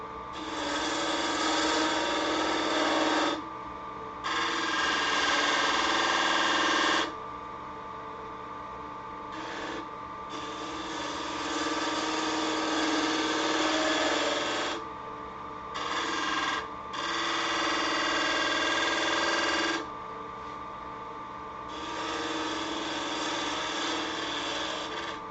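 A lathe tool cuts wood from the underside of a spinning segmented vessel, giving a steady close scraping hiss in long passes broken by short pauses as the tool lifts away.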